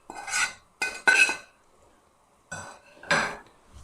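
A spoon clatters against a pot as spices are stirred into raw mango chutney, with a few separate metallic scrapes and knocks and pauses between them.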